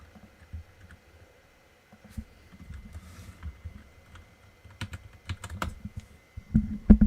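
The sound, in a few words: typing on a computer keyboard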